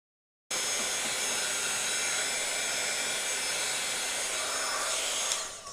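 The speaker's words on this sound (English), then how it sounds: "Okay, and my heat gun." A heat gun blasts steadily and loudly for several seconds, drying alcohol ink and shaving cream on a card, switching on abruptly after a brief silence and shifting slightly near the end.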